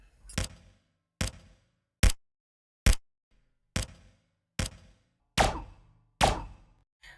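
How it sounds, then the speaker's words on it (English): A layered default pistol shot effect built for a Unity shooter microgame: eight sharp, punchy gunshot-like cracks fire at a steady pace, each with a quick decay into silence, with no talking. "This grouping of component sounds culminate into the default pistol shot sound effect."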